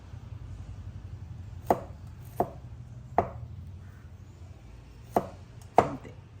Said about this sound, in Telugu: ఇలా క్రష్ చేసి కూడా చిన్న చిన్నగా పీసెస్ కట్ చేసుకోవచ్చు